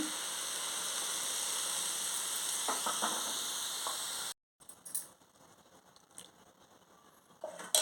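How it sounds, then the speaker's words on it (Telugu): Half a litre of boiled, cooled milk poured into a hot pan with coconut for coconut burfi, giving a steady, loud sizzling hiss for about four seconds that stops abruptly, followed by quieter faint clatter and a brief knock at the end. "ఇప్పుడు మనం ఇందులోని కాచి చల్లార్చిన అర లీటర్ పాలు వేసుకోవాలి"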